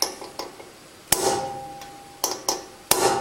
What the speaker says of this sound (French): avec un marteau, une goupille, on vient poinçonner ici pour éviter que ça se desserre